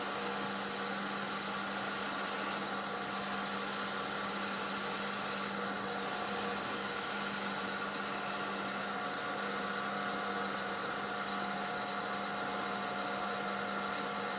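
A wood lathe turning a piece at about 1,000 RPM, with a constant, even motor hum and whine running steadily throughout without a break.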